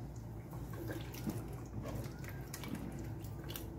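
A cup of water poured into a pot of beef and cassava, a faint splashing trickle with small gurgles and drips, quiet and close, lasting a few seconds.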